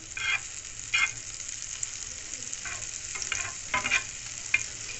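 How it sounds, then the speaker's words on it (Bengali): Butter melting in a hot pan and swirled around over a gas flame while making egg bread. It gives a steady soft sizzle with a few brief, louder crackling bursts, and no one talks. "এর মধ্যে আমি এবারে বাটারটা দিয়ে এইভাবে করে চারিদিকে ঘুরিয়ে নিচ্ছি"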